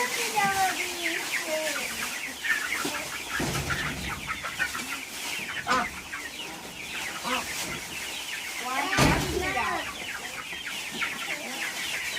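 Chickens in a coop clucking and squawking steadily at close range, with overlapping calls throughout and a few louder outbursts.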